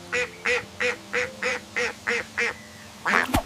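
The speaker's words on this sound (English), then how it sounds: "It's a duck." A duck quacks nine times, in an evenly spaced run of eight loud, nasal calls followed by a final, slightly louder quack after a short pause.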